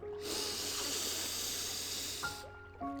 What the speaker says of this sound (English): I want you to start with a deep breath. Inhale